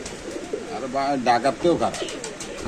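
Rajshahi giribaz pigeons cooing at a pigeon market, soft throaty rolling coos repeated close by, with people talking over them.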